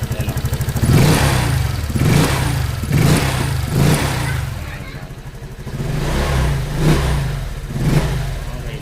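A car engine revved by hand at the throttle body during injector fault troubleshooting, giving a series of loud, close revs about once a second that fall back to a rough idle between bursts.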